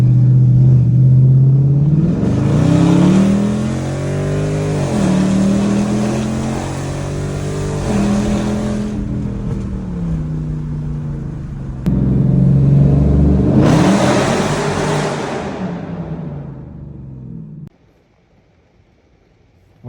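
Dodge 5.7L Hemi V8 fitted with 6.4 Hemi headers and tuned on E85 revs hard in two long, loud bursts with rising and falling pitch, rumbling between pulls before cutting to near silence.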